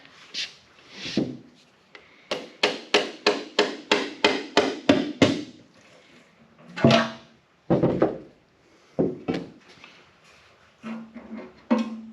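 A glued-on oil pan is pried and hammered off a flathead V8 engine: a quick run of about ten sharp metallic taps, then a few scattered heavier knocks and scraping between pauses.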